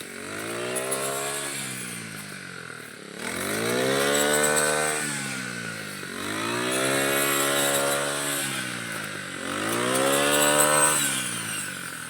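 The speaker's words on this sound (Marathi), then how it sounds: "बघा कसे मशीने कापते" A loud motorized harvesting machine drones steadily in a rice field, its engine pitch rising and falling in repeated surges as it cuts through the paddy crop.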